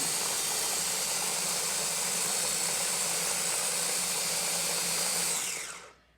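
A blender purées vegetable soup to a creamy finish, a loud, steady whirring roar that runs unbroken for several seconds before winding down and stopping.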